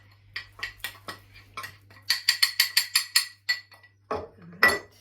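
A metal spoon knocks and scrapes around a bowl while plain flour is stirred into a lime and pistachio mixture, a run of close clinking taps in quick succession followed by a few heavier scraping strokes.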